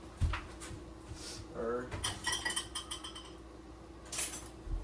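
A spoon is rinsed at a kitchen sink while making a flour-based cheese sauce for baked mac and cheese, with faint metal and dish clinks, water noise and a few quiet spoken words.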